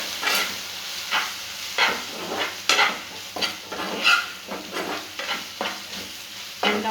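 Chili, turmeric and coriander powder frying with lady finger in a pan, stirred in quick, repeated scraping strokes over a steady close sizzle, with no talking.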